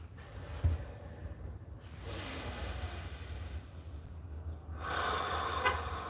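Slow, steady breathwork exercise: a long audible inhale or snort-like breath, then sustained airy exhales and hissing breaths spread over several seconds, close and fairly quiet, with no talking.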